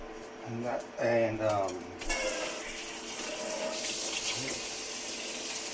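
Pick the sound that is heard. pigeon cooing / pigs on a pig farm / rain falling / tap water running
tap water running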